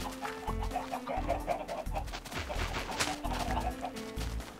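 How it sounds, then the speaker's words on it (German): Chickens on a farm in Minecraft cluck repeatedly in short, close bursts under a steady background bed, with several birds overlapping throughout. "Also die Hühnerfarm geht bis da."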